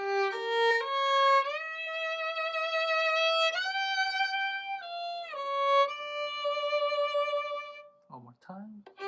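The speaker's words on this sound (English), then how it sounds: "you're gonna slide down with the 2 to regular 2" A solo violin plays a film theme with sustained bowed notes and audible slides between pitches, clear and close, ending with a brief softer passage.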